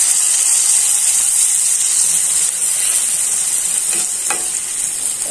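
A coconut fish curry simmering as a little broth goes into the hot pan, a loud steady hissing sizzle close up, with a couple of faint clinks near the end and no voices.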